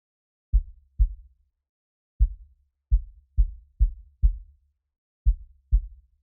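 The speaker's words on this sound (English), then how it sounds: "once we enable that plugin, you're just getting that low sub hit" Nine deep, booming kick drum hits with plugin-added sub bass giving a heavy low-end tail, spaced irregularly, clean and alone with no other sounds.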